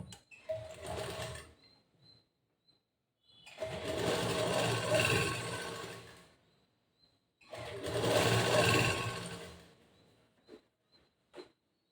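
A sewing machine stitches the boat neckline of a blouse in three sustained runs, each a few seconds long, separated by quiet pauses with a few soft clicks in between.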